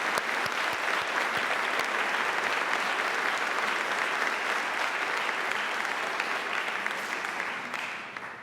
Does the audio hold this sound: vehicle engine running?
no